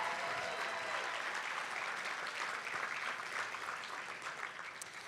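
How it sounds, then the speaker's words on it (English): An audience applauds steadily at a youth-of-the-year awards event, a dense, even wash of many hands clapping that holds its level throughout before easing slightly toward the end, with no voices over it. "How about another round of applause?"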